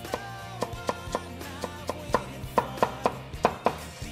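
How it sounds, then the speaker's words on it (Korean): A knife finely slicing red chili and bell pepper on a cutting board for kkanpunggi, a run of crisp, evenly spaced chops that quicken and grow louder toward the end. "이제 이 재료들을 곱게 썰어줍니다"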